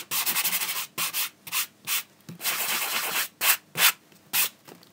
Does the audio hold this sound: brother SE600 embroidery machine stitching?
no